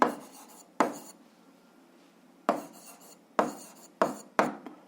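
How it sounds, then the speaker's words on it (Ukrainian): Pen on paper during a handwritten algebra answer: short bursts of scratchy writing strokes, close and quiet, separated by pauses in a silent room. "Так, записуємо відповідь."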